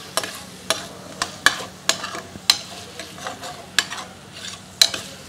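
Potatoes and green chilli paste fry for sabudana khichdi while a spoon stirs through them, with regular scraping clacks against the pan over a soft, steady sizzle and no talking.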